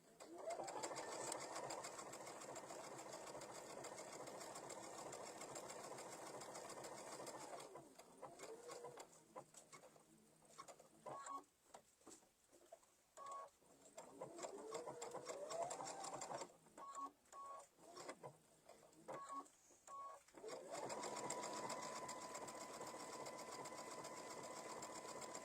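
A sewing machine stitches an appliqué for a summer table runner, its steady rapid whir running loud at the start, breaking into short stop-start bursts in the middle, then resuming continuous stitching to the end.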